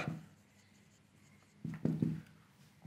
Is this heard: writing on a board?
yes